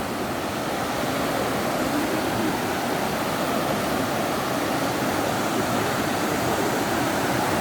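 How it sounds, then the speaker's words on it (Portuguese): Waterfall at Barra do Rio Bonito roaring steadily, a dense continuous rush of falling water heard close and loud, with no voices. "Não vai deixar a ver uma cachoeira maravilhosa."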